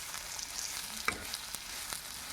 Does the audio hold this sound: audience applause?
no